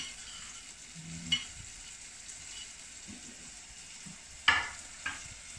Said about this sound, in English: I'm going to give that just a little stir